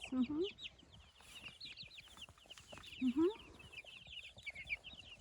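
Small egg-laying chicks peep in quick, high-pitched chirps scattered throughout, with a couple of lower clucks from nearby birds; fairly faint and outdoors.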